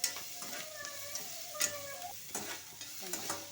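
Ginger garlic paste frying with onions in a pan, giving a steady low sizzle with occasional scraping stirs, faint and close, with no talking.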